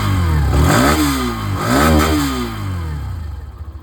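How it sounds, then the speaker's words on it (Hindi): A Hero Xtreme 125R single-channel ABS 125cc motorcycle engine runs close by, revving up and down in a couple of swells before settling to a steady, slightly uneven idle. "पहले मैं आप लोगों को ये जो सिंगल चैनल एबीएस की जो इंजन साउंड है ये सुना देता हूँ"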